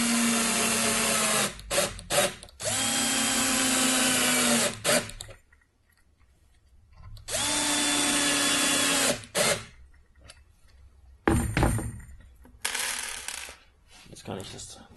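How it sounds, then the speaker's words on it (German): Power screwdriver driving screws into a wooden cajon kit: several loud whirring runs with short pauses and clicks between them, close up. "Ich drehe die Schrauben nur so weit rein, dass sie gerade ein bisschen versenkt sind."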